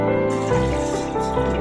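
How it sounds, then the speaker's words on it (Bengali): Water is poured from a cup into a pot for an herbal kadha, a short, steady splashing stream heard close up and fairly quiet, with no talking. "আমি এখানে 3 কাপ জল অ্যাড করব"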